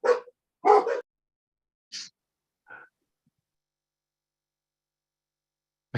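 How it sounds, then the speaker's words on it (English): Dogs barking in a few short, sharp bursts close by, separated by silence, with a faint yelp in between. "Oh, you've got dogs."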